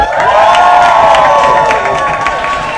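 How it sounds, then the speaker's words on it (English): A comedy club audience whooping and cheering, a dense, loud, continuous roar of crowd voices with stamping and clapping mixed in, close and unbroken throughout. "Let's one more time hear that whooping, cheering and foot stamping."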